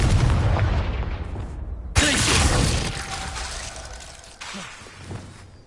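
A Confringo fire spell blasts in Hogwarts Legacy, a sharp booming impact with a crackling, shattering tail and a second smaller burst, over game ambience.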